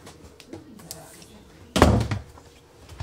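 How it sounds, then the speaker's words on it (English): A door inside a 2021 Vengeance Rogue Armored 351G2 toy hauler RV is pulled shut with one sharp, close slam and a brief rattle, after quieter shuffling and light knocks. "I shut the door on Greer"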